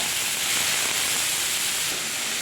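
Dry red chilies and mustard seeds hit hot oil for a Bengali thor chhechki (banana stem dish), giving a steady, close, bright hiss and sizzle that holds evenly throughout.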